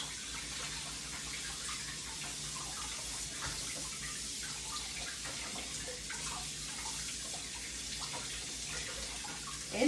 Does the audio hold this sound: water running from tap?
yes